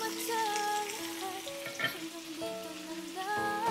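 Eggs with tomato and onion frying in a pan, a soft sizzle with occasional utensil taps, while a tonal background melody plays underneath throughout.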